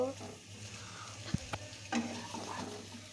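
Mango pieces with jaggery being stir-fried in a pan, a soft sizzle under intermittent scraping and clinks of a spoon against the pan, fairly quiet and close.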